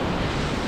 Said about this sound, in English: that's why the waves are so fucking big now